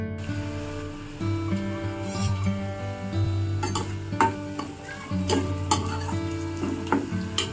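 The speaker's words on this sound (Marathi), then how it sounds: "कांदा पण छान असा रंग बदलत आहे आणि लसण पण मिरची पण छान अशी तळली जात आहे आतमध्ये" Onion, garlic and green chili frying in oil for a leafy vegetable dish, a steady close sizzle with stirring scrapes, while tonal music plays over it.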